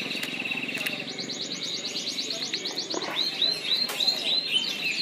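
A male canary kept by a breeder sings close by, with rapid trilled phrases followed by rising whistled notes that run continuously over faint background noise.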